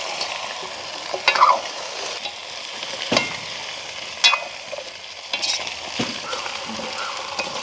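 Drumstick pieces stirred in a pan with onion and green chilli, a steady soft sizzle of frying with a few scraping stirs of a spoon, moderately close and without talk.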